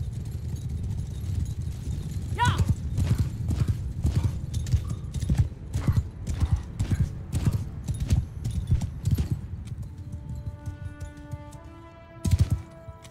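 Horses in the Mount & Blade 2: Bannerlord video game pound along with loud, dense clip-clop hoofbeats for most of the stretch, broken by a sharp neigh early on and another whinny near the end as the galloping thins out.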